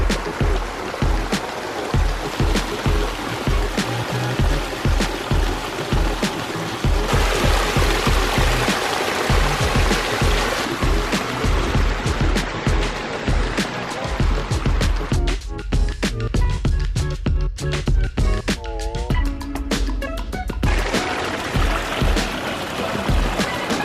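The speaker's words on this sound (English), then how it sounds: "a waterfall that just comes right out of the mountain" Waterfall spilling straight out of a mountainside into a backyard pond stocked with goldfish, shubunkins and pickerel, a steady close rush of falling and splashing water that runs continuously throughout with no talk.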